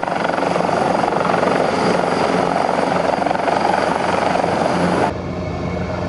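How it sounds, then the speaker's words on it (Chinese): An EC-225 Super Puma military rescue helicopter roars loudly and steadily with a throbbing rotor and engine drone, then abruptly drops to a quieter continuous hum near the end. "国军耗资36亿购入三架 EC-225 救难直升机，外号超级美洲狮。"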